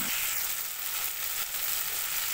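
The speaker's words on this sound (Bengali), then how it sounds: "মশলাটা একটু ভেজে নেব" Spice masala fries in a pan with a steady, close, continuous sizzle, hissing evenly and without pause for the whole stretch.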